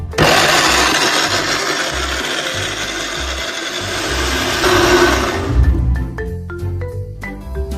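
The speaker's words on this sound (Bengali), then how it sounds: "এবারে ভুট্টাগুলিকে ছাড়িয়ে সে ব্লেন্ডারে পেস্ট করতে থাকে" A blender grinding shelled corn kernels into paste, a loud rasping whir running steadily for several seconds, then winding down into scattered clinks and knocks.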